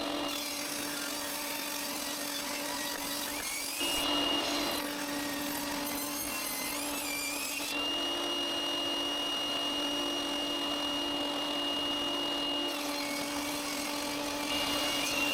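A power saw slices purpleheart and maple wood into 9 mm thick pieces, producing a steady motor drone with a sustained high whine that shifts as blade meets wood, continuous and fairly close throughout.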